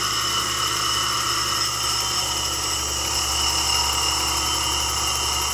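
A lapidary grinding wheel spins steadily as an opal stone is shaped against it at a lapidary school, giving a constant close whir and hum with faint grinding and no pauses.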